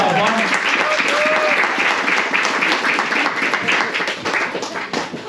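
Dense applause from a crowd at a karting event fills the whole stretch, loud and sustained, with voices mixed in underneath.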